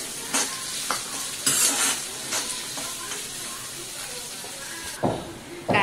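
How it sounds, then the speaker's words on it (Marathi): Onions sautéing in oil with cumin for Khandeshi kurdai bhaji, a continuous sizzle broken by several loud bursts of spatula stirring and scraping in the pan, close by with no talk. "कांदा गुलाबीसर होईपर्यंत छान परतून घेऊया।"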